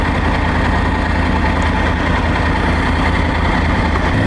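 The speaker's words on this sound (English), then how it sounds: "It's that very familiar Triumph triple sound and feel." A Triumph Tiger 900 Rally Pro's three-cylinder engine idles steadily and close by, a loud, constant low throb with a fine, even vibration and no break or change throughout.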